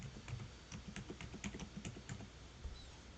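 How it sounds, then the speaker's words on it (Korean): Quick, light taps on a computer keyboard as a password is entered, an uneven run of soft clicks close by in a quiet room. "영어와 숫자를 포함하셔서 암호를 입력해 줍니다."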